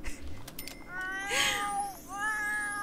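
A cat in the video game The Sims 4 meows twice in drawn-out, wavering calls, clear and close over a faint background hum.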